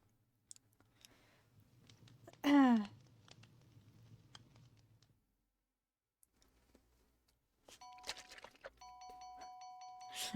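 A small chime rings in a Minecraft SMP game, a brief bright ding followed later by a repeated tinkling tone, amid faint clicks and occasional talk.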